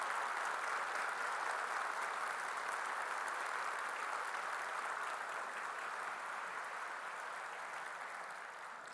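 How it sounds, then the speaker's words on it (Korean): Sustained applause from a standing church congregation at a Sunday worship service, dense steady clapping filling the room throughout, slightly fading toward the end. "우리 힘찬 에너지를 박수로 전달해 드리겠습니다"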